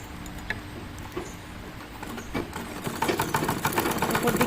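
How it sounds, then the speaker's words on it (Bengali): A household sewing machine stitching the square neckline of a nightie, a fast even mechanical whirr that builds and grows louder toward the end, close by, with someone talking over it. "পটির কাপড়টাও সব উল্টো করে নিয়ে আমি উল্টো দিক থেকে সেলাই করছি।"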